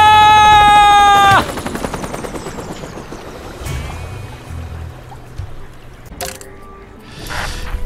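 Cartoonish helicopter from the Worms W.M.D video game: a loud chopping rotor drone with a descending whine, then a steady mechanical rumble with clattering effects.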